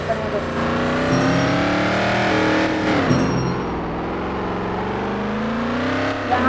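Engines revving and roaring in a car race in the video game Car Empire, a steady loud drone with rising and falling pitch as cars accelerate, and someone talks over the racing throughout.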